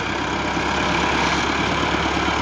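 A tractor engine idles steadily on a farm during maize sowing, a continuous low, rough rumble that stays close and even throughout with no talking.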